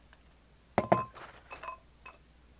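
Glass clinks sharply a few times at close range as a glass is handled and set down, with a pair of bright strikes followed by lighter taps and knocks, no voices.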